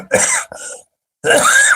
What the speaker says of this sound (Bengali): লাইভ হচ্ছে তো ফলে কাশি মাঝে মাঝে এসেই যেতে পারে